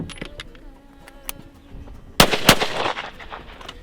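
A .410 shotgun fired with a shell from a reloaded hull, heard as one sharp, loud, close blast followed by a second crack and a short fading rumble, after quiet outdoor background with insect buzzing.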